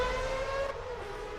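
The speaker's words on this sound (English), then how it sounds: "And here comes Nico now for the overtake" Mazda Masters race car overtaking on track: a loud, high engine whine holds steady, then drops in pitch as the car passes and fades into lower track noise.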